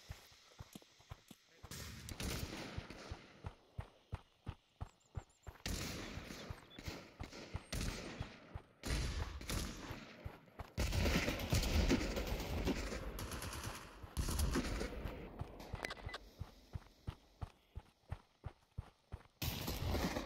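Gunfire in the VR shooter Pavlov on a snowy trail map: bursts of rapid, sharp shots come in several runs, mixed with full-auto stretches and fainter shots in the distance.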